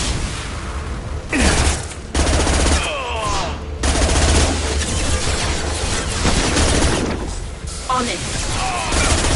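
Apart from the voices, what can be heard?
gunfire in the Mass Effect video game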